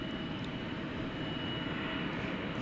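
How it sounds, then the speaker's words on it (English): An American Airlines Boeing 777-300 arriving at DFW airport at night, a continuous broad engine roar, steady and fairly loud, heard without talk. "American Flight 81 arriving from London, 777-300, 11-year-old aeroplane."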